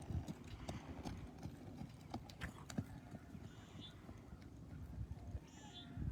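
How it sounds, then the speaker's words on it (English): Rhythmic clip-clop of horse hooves trotting on firm ground, moderately close, with occasional faint voices in the background. "He's got a nice trot."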